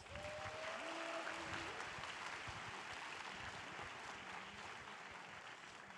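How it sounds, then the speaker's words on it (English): Sustained applause from a large audience at a hackathon opening ceremony, a dense steady wash of clapping holding loud for the whole stretch with a brief tonal sweep near the start. "Can we get one huge round of applause for all of our sponsors?"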